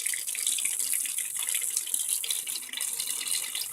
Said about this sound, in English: You want your water to be lukewarm.